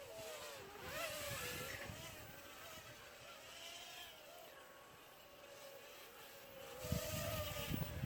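A small Huanqi 894 drone with direct drive motors flies outdoors, its whining motors rising and falling in pitch as it maneuvers, heard steadily at moderate distance.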